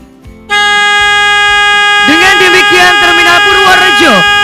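Vehicle horns blare together at a bus terminal inauguration in Purworejo, a loud sustained chord of several horns held for about four seconds, with crowd noise and voices rising over it partway through.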